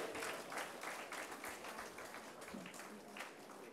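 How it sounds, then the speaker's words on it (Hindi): Applause at an inaugural session on self-care as medical wing officers are welcomed. The clapping is quiet and steady from a crowd throughout, with a faint murmur underneath. "जोरदार तालियों से आप सभी का स्वागत करेंगे"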